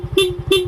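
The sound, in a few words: stock horn of a Yamaha Mio i 125 scooter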